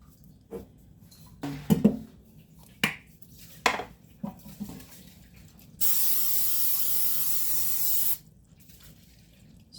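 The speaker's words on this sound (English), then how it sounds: "Spray my pan with some olive oil" Olive oil spraying onto a baking pan for bread rolls: one sustained hiss of about two seconds, close and clear, after scattered soft kitchen clatter and taps.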